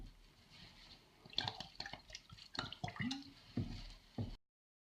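Warm water splashes and squelches onto a Russian tortoise enclosure's substrate in several uneven wet pours and drips, close and fairly quiet, ending abruptly.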